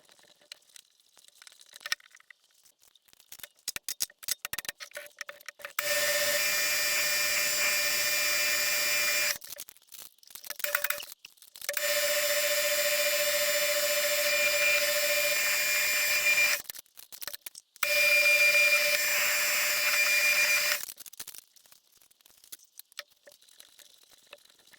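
A milling machine drilling side holes in a metal bar runs in three long, steady whining stretches with a constant high tonal drone, separated by quieter intervals of clicks, handling noise and machine adjustments, close up and loud.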